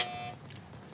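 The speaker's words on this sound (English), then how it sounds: "So in front of you, you've got a buzzer. Why don't you test it, Harry?" A game show buzzer is pressed once as a test, giving a short bright tone that sounds loud and close, then stops partway through with only quiet room noise remaining.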